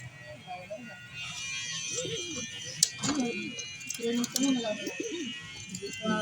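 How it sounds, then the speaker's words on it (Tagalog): A pigeon coos in a series of soft, low, rounded calls at close range, repeating irregularly with faint clicks and rustles around it and a quiet background hum. "Guys oh, pigeon."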